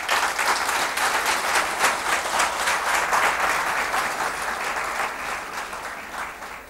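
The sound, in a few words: applause from conference audience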